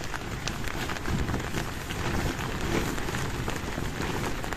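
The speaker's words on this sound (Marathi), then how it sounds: "आता पाऊस वाढलाय म्हणजे वारं कमी होईल आहे ना." Heavy rain drums on a camping tent at night during a trek near Satara, a continuous dense patter that stays loud and close throughout, with no voices.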